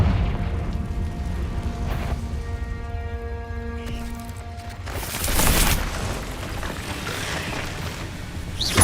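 A Confringo fire spell blasts in Hogwarts Legacy, with sustained tonal magic tones giving way to a loud, broadband explosive burst, then a rumbling tail.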